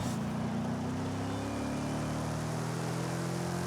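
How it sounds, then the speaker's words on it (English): A Ford V8 muscle car in the Forza Horizon 5 racing game gives off a steady, low engine drone at constant revs, with no talk. "Nice V8 sound."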